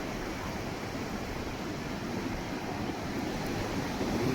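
Sea surf on the quiet Blue Flag beach at Puri, a steady broadband wash of breaking waves with wind noise, continuous and fairly even throughout with no voices.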